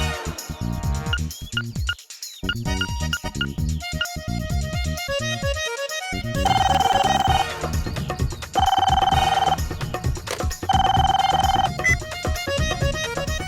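A telephone rings after a call is placed in a Hindi children's fantasy show, three long repeated bursts of ringtone over a busy background score.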